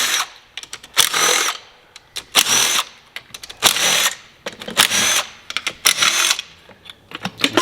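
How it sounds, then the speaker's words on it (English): An impact wrench with an 8mm socket backs out the cover bolts on a 50cc gas scooter. It gives several loud, close bursts of rattling hammering separated by short pauses. "We have an 8mm socket and impact."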